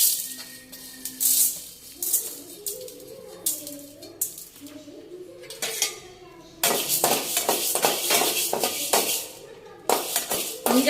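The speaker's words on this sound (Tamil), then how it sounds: "இப்போ அதே கடாயிலே திரும்பவும் வந்து உளுத்தம்பருப்பு, இந்த பூண்டு, புளி இதை வந்து போட்டு நல்லா ஃப்ரை பண்ணிக்கலாம்." Urad dal, garlic and tamarind are dry-roasted in a metal kadai over a medium flame, with loud clattering scrapes and clinks of a spoon stirring against the pan in uneven bursts.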